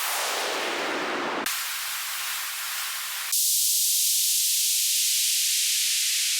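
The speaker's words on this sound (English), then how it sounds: "We got downlifters and uplifters. Most of them are just white noise based" White-noise sweeps for melodic techno production play one after another: a downlifter falling away, then a filtered hiss, then a bright high noise riser, each cut off abruptly and clean with no voices.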